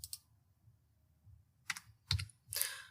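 A few keystrokes on a computer keyboard: sparse, close clicks coming in short separated taps after a quiet stretch over faint low background noise, with no talking.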